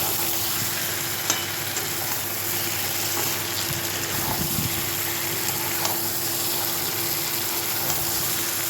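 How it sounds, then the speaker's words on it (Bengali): Previously fried pointed gourd being stir-fried in a pan, giving a continuous close sizzle with occasional light clinks and scrapes of stirring and a faint steady hum beneath, with no talk. "ভালোভাবে নেড়ে চেড়ে নেওয়ার পরে ভেজে রাখা পটলগুলো এর মধ্যে দিয়ে দেবো। এটাকেও ভালো করে নেড়ে চেড়ে কষিয়ে নেব।"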